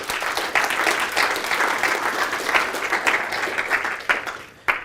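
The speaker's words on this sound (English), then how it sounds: "Let's give Conrad and the team a round of applause." An audience at a seminar on renting shares breaks into sustained applause for Conrad and his team, a dense wash of clapping that holds steady before tapering with a few last claps near the end.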